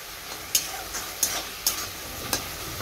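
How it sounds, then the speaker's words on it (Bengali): A spice paste of onion, ginger, garlic, green chilli, cumin, coriander and Kashmiri chilli powder fries in a pan, a steady sizzle broken by four sharp, evenly spaced spatula scrapes. No one speaks. "মশলাটা ভালো করে কষবে"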